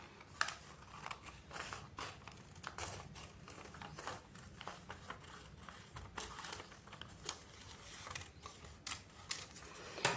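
Scissors snipping through fabric along a sleeve pattern, a close, quiet series of crisp irregular cuts and rustles with no talking.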